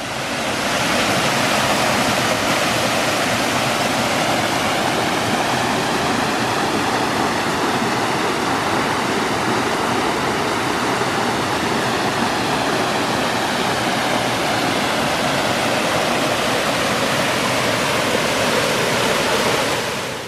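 Continuous rushing water from a roadside waterfall roars evenly and loudly throughout, a broad unbroken wash of sound with no talking.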